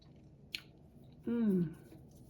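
A bite of soft homemade banana cake is chewed close to the mic, with a brief moist click, then a short hummed voice sound of approval over quiet chewing.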